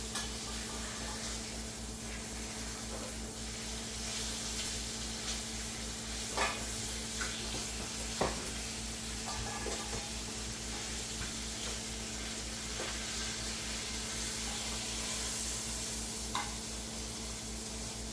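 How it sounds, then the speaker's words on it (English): Pork chops sear in a hot pan as their fat renders, giving a faint, continuous sizzle and hiss with a few small crackles and pops throughout, while a steady low hum sits underneath. "You get a good sear on this side over here."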